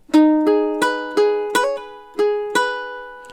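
A slow plucked ukulele riff, single notes and a chord ringing out one after another with gentle decays, played alone.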